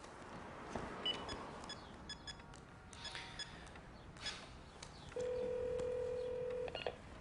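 Touch-tone telephone beeps sound faintly as a number is dialed, followed by a clear, sustained tone lasting over a second. The scene comes from a French-dubbed action film and is otherwise quiet.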